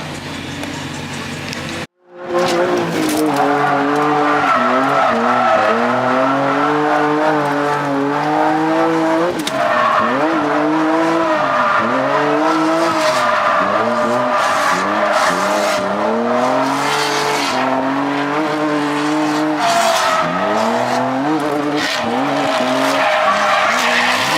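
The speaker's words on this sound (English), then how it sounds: "Freshly completed 350Z drift car." Nissan 350Z drift car heard from inside during a track ride-along, with loud engine revving rising and falling and continuous tire squeal and skidding through repeated slides.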